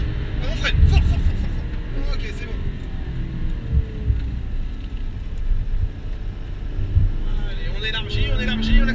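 Porsche GT3 RS with a 500 hp engine accelerating hard on a race circuit, a loud rumbling engine roar with wind buffeting, heard from inside the car under a person talking.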